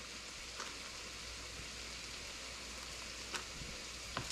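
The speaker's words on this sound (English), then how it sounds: "that is our okra frying and bacon grease" Okra fries in bacon grease in a home kitchen, giving a steady, quiet, even sizzle with a few faint pops and crackles.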